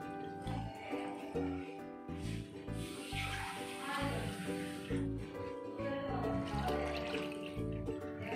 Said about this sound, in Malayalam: ഇതിലേക്ക് നമുക്ക് 2 glass വെള്ളം ഒഴിച്ചു കൊടുക്കാം.